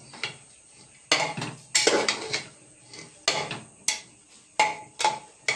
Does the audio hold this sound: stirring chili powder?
yes